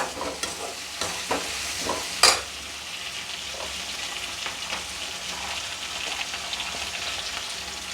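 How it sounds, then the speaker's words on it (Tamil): Onions and a ground spice paste sauté in a pan for mutton kulambu, a steady close sizzle broken by a few clinks and scrapes of a stirring spoon, with one sharp metallic tap near the start. "கொஞ்சம் உப்பு போட்டு வதக்கிங்க, சீக்கிரம் வதங்கும்."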